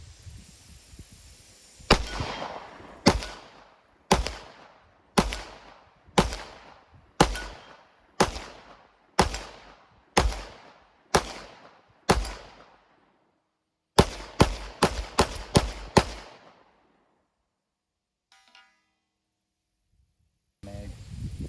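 Sig Sauer P365 Fuse pistol firing full metal jacket rounds, a steady string of about ten sharp, loud shots, then a quicker burst of five or six, followed by near silence and a faint click.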